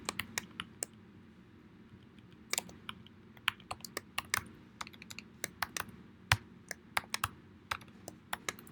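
Keys clatter on a computer keyboard in irregular quick bursts of sharp clicks, some fast runs and some single taps, close to the mic in a quiet room.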